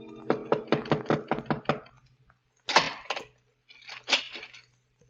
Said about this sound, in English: the knock came